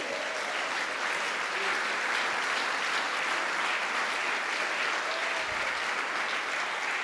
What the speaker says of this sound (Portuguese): Vamos aplaudir a esse Deus, irmão